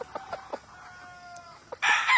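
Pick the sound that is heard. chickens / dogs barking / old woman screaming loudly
chickens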